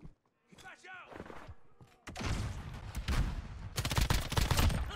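Suppressed gunfire in the Modern Warfare beta video game: a voice talks first, then from about two seconds dense, loud bursts of muffled automatic shots fill the rest, growing heavier near the end.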